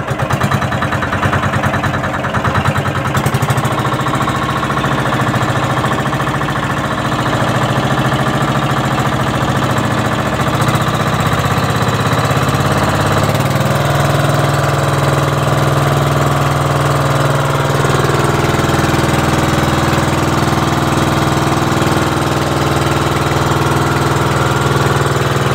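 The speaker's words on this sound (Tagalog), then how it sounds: "Pinandar ko na yung makina mga idol." The engine of a small fishing boat runs steadily after being started, a loud continuous mid-pitched drone with a rough, knocking chug that carries unbroken for the whole stretch.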